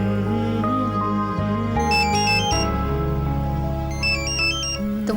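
A mobile phone ringtone plays loudly and alone, a bright repeating electronic melody of shifting tones that carries on for several seconds in a quiet indoor room.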